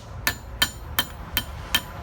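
A hammer strikes a pop rivet on an anvil to flatten it for a nunchaku chain, five sharp, evenly spaced metallic blows, close and clear against low background noise.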